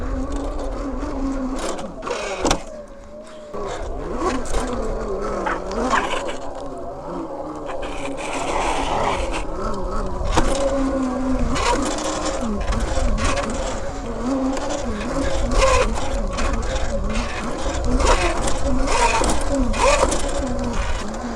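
A HeyBike Villain 52V electric dirt bike being ridden gives a continuous whining motor hum that rises and falls with throttle, along with wind rush and rattling, heard close throughout.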